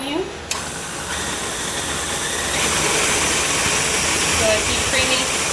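Electric mixer creaming chocolate chip cookie dough, a steady whirring motor hum with a short clatter near the start, running continuously while a person talks over it.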